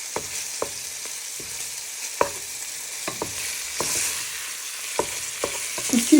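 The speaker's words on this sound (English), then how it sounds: "Just keep tossing it in the oil" Meat fries in hot oil for a Nigerian meat pie, sizzling steadily as a wooden spoon breaks it up and scrapes and taps the pan in scattered strokes, close and clear.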